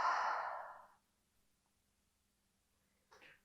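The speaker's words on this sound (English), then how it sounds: "And one deep exhale." A deep yoga exhale, one long breathy rush of air that fades out over about a second, followed by quiet and a brief soft breath near the end.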